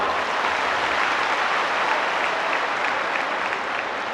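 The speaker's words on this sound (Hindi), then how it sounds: "मैं पूरे छत्तीसगढ़ वासियों की ओर से उनका स्वागत करता हूं तालियों के साथ।" A huge crowd of worshippers in the open courtyard of a Hanuman temple applauds to welcome a guest, a loud, unbroken wash of clapping that holds steady from start to finish.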